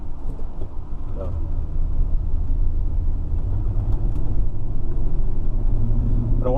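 A 1967 Pontiac Le Mans engine accelerating on a road, a steady, loud low rumble that swells slightly and holds throughout, with faint voices in the background.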